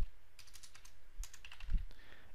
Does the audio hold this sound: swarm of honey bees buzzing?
no